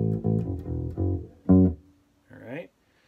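An electric bass guitar plays a practice measure of repeated low plucked notes on open and fretted strings, a few even hits followed by a longer note and a sliding phrase, clear and alone.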